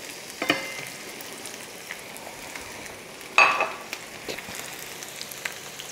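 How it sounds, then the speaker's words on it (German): A low, steady sizzle of potato slices frying in a pan, with occasional pops and one louder scrape partway through; no talking. "So, Bratkartoffeln sind in der Pfanne."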